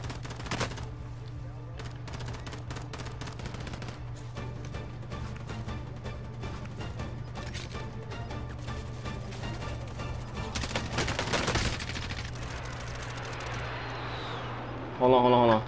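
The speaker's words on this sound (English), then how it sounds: "I'm getting shot at." Sustained automatic gunfire rattles through a Call of Duty: Warzone match in quick bursts and single shots, some near and sharp, with a louder crash near the end. A player talks over the shooting.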